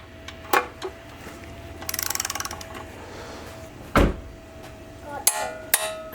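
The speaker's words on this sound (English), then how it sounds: "Now this oil pump bolt gets torqued to 65 foot-pounds." An oil pump bolt on a 1970 Corvette small-block 350 being rebuilt is tightened to 65 foot-pounds: a short run of rapid ratchet clicks, then a sharp metallic snap and a few light knocks, close and without talk.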